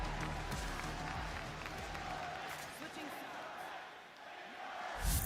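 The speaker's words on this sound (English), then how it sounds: "Damn, crowd. A big crowd, no?" A crowd cheers and applauds at the PRX vs WOL esports upper finals at Masters, a faint, roaring wash heard distantly beneath people talking.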